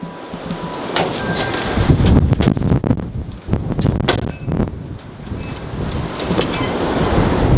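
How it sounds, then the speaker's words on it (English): Strong wind of around 25 mph buffets the microphone outdoors in the Ozarks, a loud, continuous roaring rumble with gusting surges and no voice. "My official beard reading of the wind is about 25 miles an hour right now."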